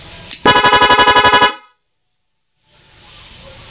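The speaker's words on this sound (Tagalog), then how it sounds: "Yan yung ating rapid horn." A Nhay 3 Pro dual horn set to rapid mode blasts a loud, fast string of about ten evenly spaced honks lasting roughly a second, followed by silence and then faint background hiss.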